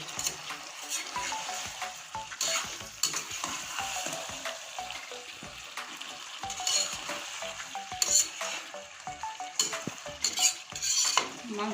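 Chicken masala, leg pieces included, is stirred and fried down in a pan, steady sizzling with repeated scraping of a spatula against metal, close and fairly quiet with no speech.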